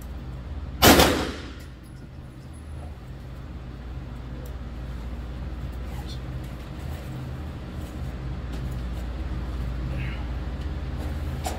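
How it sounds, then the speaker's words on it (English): A single loud, sharp Glock 9mm pistol shot at an outdoor shooting range rings out near the start, its echo decaying over about a second, followed by steady low background rumble and faint distant noise. "So I'm gonna shoot the rest of my Glock. I have some 9mm still left."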